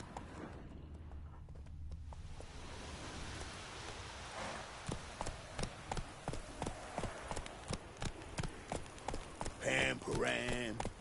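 Roach, a horse in The Witcher 3, walks with steady, rhythmic hoofbeats that start after a few quiet seconds and grow clearer, with a brief louder burst of movement near the end and a voice speaking over it.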